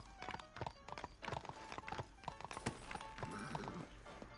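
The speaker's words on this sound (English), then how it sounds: "Maybe if I move my horse." Horse hooves clip-clop in a Red Dead Redemption 2 style Western game, a quick run of sharp, close hoof strikes with a brief snort or whinny.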